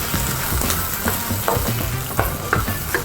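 Onion is dropped into very hot oil in a wok while beef chow fun is cooked, with a loud continuous sizzle and close, brisk stirring scrapes throughout.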